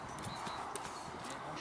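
Tosca, a horse working on a lunge line in a circle, moves along with soft, muffled hoofbeats and a faint snort over a steady outdoor background, fairly close and with no talking.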